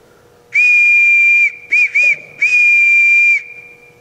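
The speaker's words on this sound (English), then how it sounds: "Everyone in this house answers to a whistle." A whistle blown to summon a household during a school stage production of The Sound of Music: one long piercing blast, two quick short ones, then another long blast, loud and close with no talk.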